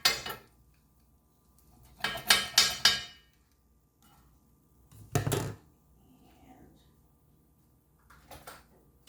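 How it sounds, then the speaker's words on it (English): Slice of chickpea flatbread pizza with well-browned cheese being cut in a hot cast iron skillet, a few sharp metallic scrapes and knocks in a quick burst, then a couple of louder isolated clanks, close by with no talking. "So I'll cut me a little slice here"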